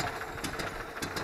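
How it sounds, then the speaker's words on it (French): Citroën Acadiane engine idling slightly low, a steady close rumble with faint regular ticking pulses running through it. "le ralenti est pas mauvais, un peu bas peut-être"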